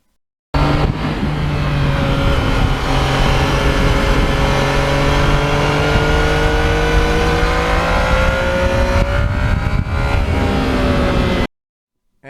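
A 2020 Yamaha MT-09 motorcycle rides steadily along back roads, its engine droning loudly and continuously with a smooth, slowly shifting pitch and a brief change near the end, wind rushing underneath, no voices.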